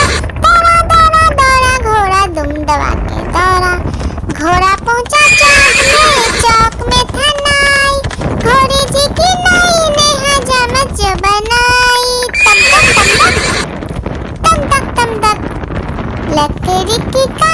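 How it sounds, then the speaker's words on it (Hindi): A horse neighs and whinnies again and again, with hints of galloping hooves, in a Hindi children's rhyme about a running horse. The loud, continuous track is mixed with music and voices. "दौड़ा दौड़ा दौड़ा घोड़ा दुम दबा के दौड़ा"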